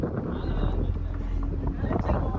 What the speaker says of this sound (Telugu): గాలి మాత్రం మామూలు లేదు